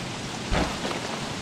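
Steady rain hisses throughout, with a brief low rumble of thunder partway through, in the video game Don't Starve.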